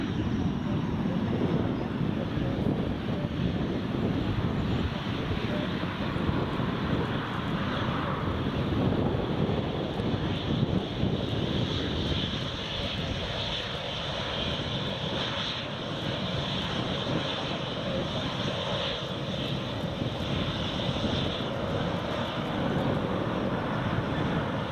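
A Diamond DA62 propeller aircraft passes at Newcastle Airport in gusty crosswind, its engine drone loud and steady throughout with wind buffeting the microphone.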